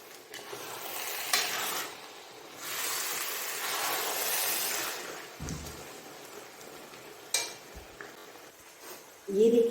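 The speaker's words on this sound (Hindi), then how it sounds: "अब मैं इसको अच्छी तरह इसमें मिक्स करूंगी।" Carrot halwa stirred and mixed with milk reduced from five kilos to one in a pot, a soft scraping and sizzling texture running steadily with a few louder knocks near the end.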